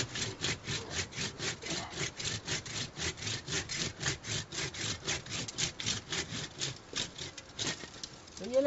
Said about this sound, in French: Il y a l'intérêt d'avoir des outils très bien coupants, très solides et qui se faufilent bien dans l'intérieur de la touffe.